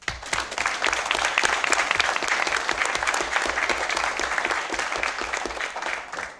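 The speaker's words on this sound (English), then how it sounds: "One more round of applause" Sustained applause from an audience at a school district board of education meeting, dense steady clapping that holds loud and even for several seconds before tapering slightly at the end.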